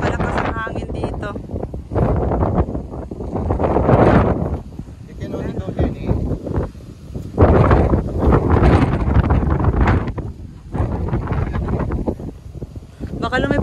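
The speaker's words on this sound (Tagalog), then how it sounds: "Napakalakas ang hangin dito." Strong mountain wind on a hiking trail in a park, where the ropeway has been cancelled, roars in heavy gusts that buffet the microphone in loud surging waves, with voices talking intermittently under the rush.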